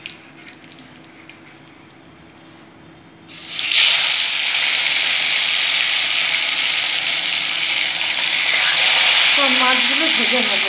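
Salt-and-turmeric-coated bhetki fish drops into hot mustard oil, a quiet stretch giving way to a sudden loud, steady sizzle that holds to the end, with a faint voice murmuring near the close.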